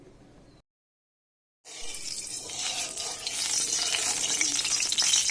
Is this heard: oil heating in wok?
yes